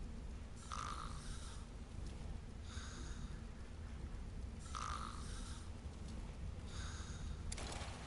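A sleeping man snores in Metal Gear Solid Delta: Snake Eater, with slow rhythmic rasping breaths repeating about every two seconds, faint and quiet, with no talking over them.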